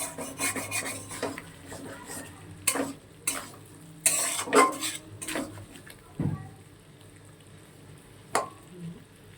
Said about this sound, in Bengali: অনেকটাই কষানো হয়ে গেছে চিংড়ি মাছ মশলাটা দিয়ে।